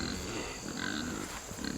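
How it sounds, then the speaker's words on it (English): Low, soft grunting from pigs at a farm pen, a faint steady murmur of snuffles under background noise. "We've got a special treat for these pigs"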